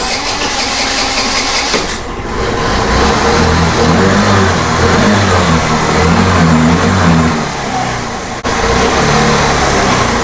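Vespa scooter engine running after its carburetor was cleaned, loud and close, a continuous buzzing note that rises and dips unevenly with the throttle, alone without speech.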